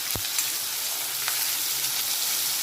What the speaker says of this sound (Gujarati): કાંદાને આપણે ફાસ્ટ ગેસ પર જ સાતળી લઈશું